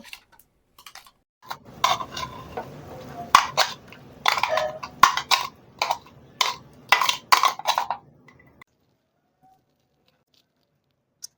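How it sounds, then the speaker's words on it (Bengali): Salted vegetables are pressed in a strainer to squeeze out excess water, giving a series of close, moist crunching and squishing bursts in an irregular rhythm, followed by a quiet stretch at the end. "এরকম একটা ছাকনা নিয়েছি, ছাকনার মধ্যে নিয়ে নিচ্ছি। এক্সট্রা জলটা চেপে চেপে বের করে নেব।"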